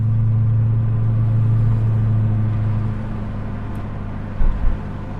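Ford Falcon XD with a 4.9 V8 cruising in top gear, a steady low engine drone and road rumble heard from inside the car, easing slightly quieter partway through with a brief bump near the end.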